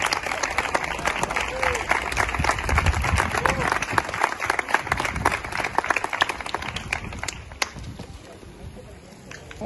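Protesters at an outdoor demonstration in the Sierra de Cádiz give a round of applause, dense clapping from a crowd, loud and close, with voices mixed in before it tapers off near the end.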